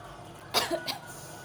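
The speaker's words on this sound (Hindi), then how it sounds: "लेकिन खांसी आ गई, क्या कर सकते हैं।" One close, sharp cough in two quick bursts, heard alone against a quiet room background.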